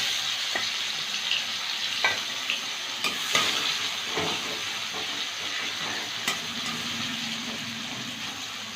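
Bitter gourd coated in salt and turmeric frying in hot mustard oil in a kadai, a constant close sizzle with occasional spatula scrapes and knocks against the pan.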